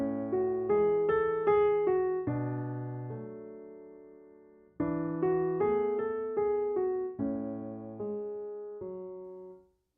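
Piano plays a theme from La La Land without sustain pedal, each chord and melody note struck distinctly and decaying quickly, in two phrases separated by a brief gap, solo and close.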